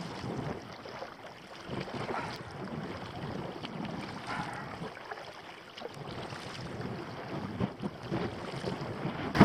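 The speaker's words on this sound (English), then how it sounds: "Oh, it's blessed wind. Almost pins you fast." Strong wind buffets a kayak at Walney North End Dunes, a steady broadband rush and microphone roar with faint water sloshing underneath, sustained and close throughout with no talking.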